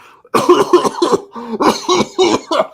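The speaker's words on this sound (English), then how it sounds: "I'm coughing." A person coughs repeatedly in a rapid string of harsh, close bursts, about eight or nine in quick succession.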